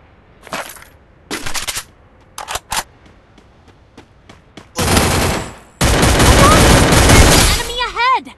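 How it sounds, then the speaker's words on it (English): Gunfire in the Free Fire mobile shooter game: several sharp single shots and short bursts, then two long loud volleys of rapid automatic fire, with a game voice speaking at the end. "Fire your weapon now!"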